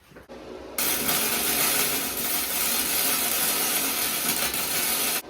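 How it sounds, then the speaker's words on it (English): Welding on a Harley motorcycle hardtail frame kit: a loud, steady crackling hiss begins abruptly after a short quiet moment and runs continuously close up, with no talking. "So let's fucking weld the rest of it."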